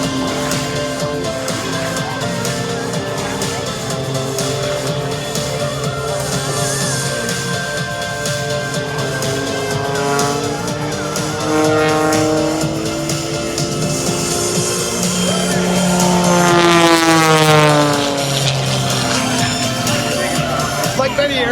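During an airshow, an aerobatic airplane engine rises and falls in pitch through a free fall, with sweeping tones building as speed returns, heard under steady commentary from a man.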